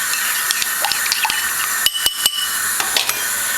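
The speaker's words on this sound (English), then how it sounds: "What you want to do with this is, just add a little bit of water. Mix it around" Water added to a pork chop seasoning rub in a bowl and mixed, giving close wet stirring and light clinks and scrapes against the bowl over a steady background hiss.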